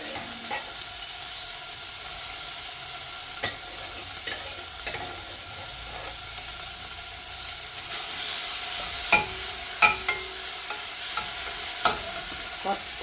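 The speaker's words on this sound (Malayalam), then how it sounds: "കുറച്ച് നേരം ഒന്ന് ഇളക്കി ചേർത്തെടുക്കാം," Chicken pieces stirred and frying in a pan, a steady sizzle with scattered scraping clicks of the spoon, close and continuous with no talking.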